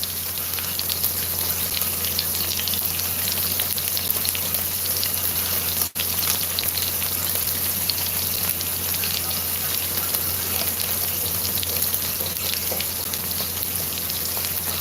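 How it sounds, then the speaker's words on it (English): Burgers frying in a pan, a steady, even hiss and crackle of sizzling fat that runs unbroken and close with a single brief dropout partway through, no talking. "We are making some burgers"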